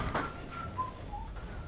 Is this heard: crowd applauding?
no